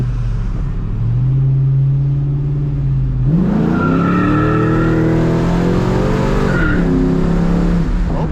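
A loud cammed 450 hp truck engine idles with a low rumble, then revs up hard and pulls away, pitch climbing steadily as it accelerates.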